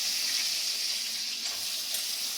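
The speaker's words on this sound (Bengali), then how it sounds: "ওর মধ্যে আমি আলুগুলো দিয়ে দেবো" Steady sizzle from boiled potatoes dropped into hot oil with a tempering of spices and chilli powder, a continuous broad hiss, close and moderately loud, with no voices.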